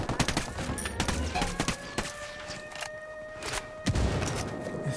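Gunfire in the video game Ghost Recon Wildlands, bursts of rapid shots crackling in quick succession with brief gaps, loud and close, layered over steady game background sound.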